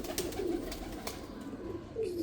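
Pigeons of the Lal Pari breed coo in low, soft, repeated calls close by, with a steady rustling background and no talk.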